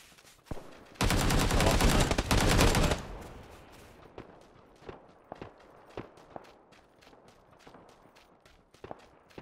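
PUBG video game gunfire on Xbox One: a dense burst of rapid automatic fire lasting about two seconds, loud and close, followed by scattered single shots and clicks that fade into quieter background ambience.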